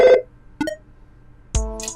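Short synthesized telephone ring tones from the Mother: Cognitive Dissonance game, which borrows Earthbound sound effects: a brief electronic burst, a short blip, then another tonal ring starting near the end, each alone.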